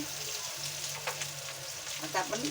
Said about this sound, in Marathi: तुम्ही बघू शकता बटाटे आणि फ्लावर फ्राय झालेली आहे